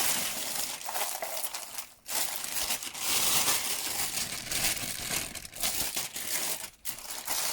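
A plastic delivery bag crinkles and rustles continuously, close and fairly loud, as an item is pulled out of it.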